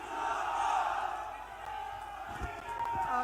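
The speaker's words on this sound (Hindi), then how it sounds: "जोरदार तालियों के साथ" A big crowd at a political rally in Jaipur cheers and shouts, loud at first then easing slightly, with a few sharper thumps and voices near the end.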